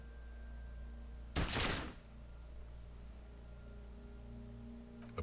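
A single sharp pistol gunshot bursts out in the Disco Elysium video game over a quiet, low background hum, followed by a faint click near the end.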